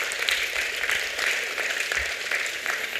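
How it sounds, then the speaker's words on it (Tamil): A church congregation claps to give thanks to the Lord, producing continuous, fairly faint, diffuse applause with no speech over it. "கைத்தட்டி ஆண்டவருக்கு நன்றி சொல்லல"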